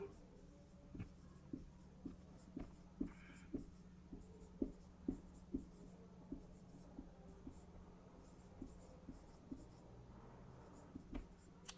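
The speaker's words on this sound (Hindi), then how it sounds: "देखो 2 का लिख रहा हूं मैं, 6 का टेबल लिखते हैं" Marker or chalk on a board writing out a multiplication table in a maths class, a steady series of short, sharp taps and strokes at an even pace, close and clear over faint room hum.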